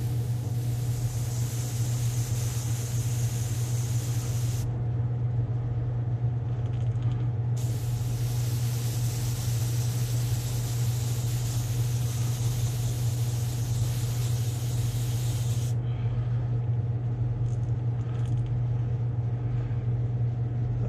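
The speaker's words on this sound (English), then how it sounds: "Let that air compressor kick off. I'm running a 2-gallon air compressor." A small 2-gallon air compressor runs with a constant low droning hum, joined by long bursts of hissing air that start and stop.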